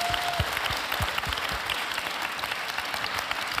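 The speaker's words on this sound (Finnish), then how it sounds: "Niin annetaan tälle porukalle valtavat aplodit." Large audience applauding at a formal anniversary celebration of the UN Declaration of Human Rights, a dense, steady wash of many hands clapping close and loud, sustained throughout with no talk.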